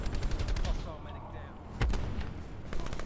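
Gunfire from a sniper's nest in a first-person shooter comes in as repeated sharp shots, with one heavy blast near the middle, layered over dense game noise and a talking voice.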